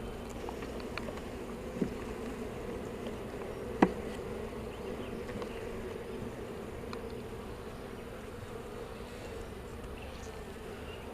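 Honey bees buzz in a steady, continuous drone from an open hive during a colony split, with a couple of brief clicks or knocks standing out from the hum.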